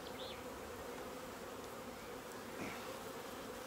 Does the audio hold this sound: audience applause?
no